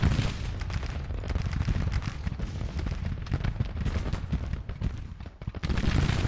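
Dense, continuous battle din of artillery and rifle fire from the Civil War strategy game Grand Tactician: The Civil War, with overlapping booms and crackling volleys rolling without pause, loud throughout.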